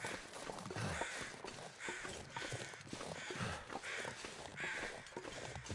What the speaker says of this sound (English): I hear crows.